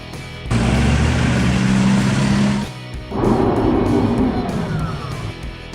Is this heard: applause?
no